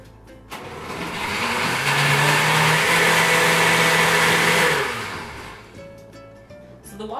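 An apple chia seed waffle batter with a dash of cinnamon whirs in a blender, a loud steady motor drone that starts abruptly, holds for about four seconds and winds down, with no talking.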